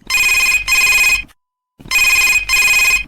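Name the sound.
telephone ringing for a phone-in radio programme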